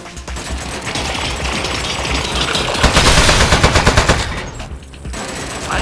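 Rapid machine-gun turret fire in the Aperture Desk Job video game, a loud continuous rattling burst of shots that swells in the middle, then breaks off briefly before resuming.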